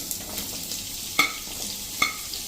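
Raw mango pieces go into hot oil and sizzle steadily up close, with a few sharp spatula clinks against the pan.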